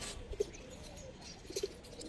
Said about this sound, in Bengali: সিলভার কবুতর।